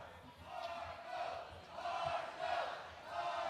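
A capacity crowd at a Memphis wrestling show chants in rhythmic, swelling waves of voices, several rising pulses in a row, loud and filling the arena.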